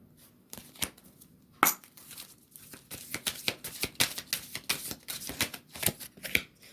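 Tarot cards are handled and counted out one by one, a run of quick, crisp flicks and slides close by, with a sharper snap early on and faster, steady card sounds afterward.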